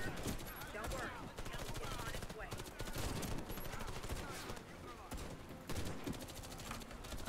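Sniper rifle fire from a TWM bolt-action in the Warface shooter, sharp shots scattered through a dense, constant wash of battle noise and other gunfire, with a voice faintly present underneath.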